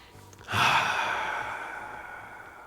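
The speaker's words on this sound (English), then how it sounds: "Take slow, deep breath." A slow, deep breath: one long, close, airy exhale that swells suddenly, then tapers off gently over about two seconds, with no talking.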